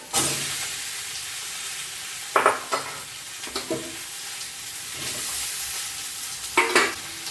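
Onion and potato sauté lightly in a pan for Bengali uttapam, with a continuous hissing sizzle broken by several loud scraping spatula stirs.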